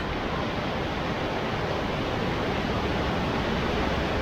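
Broad, steady roar of the river below the Cascata delle Marmore waterfall near Terni, a continuous loud wash of rushing water with no breaks and no voices.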